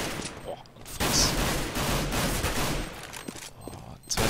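Rapid gunfire bursts from Counter-Strike on the de_dust2 map during a competitive match, loud and dense through most of the stretch with short pauses near the start and end.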